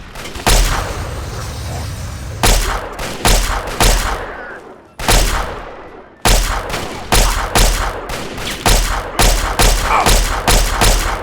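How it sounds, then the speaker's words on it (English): Gunfire in Fallout 3 rings out as loud, close, sharp shots in irregular clusters, with brief gaps and some heavier thudding blasts between them. "Taking fire. Taking fire."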